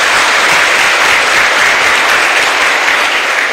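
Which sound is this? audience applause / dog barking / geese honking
audience applause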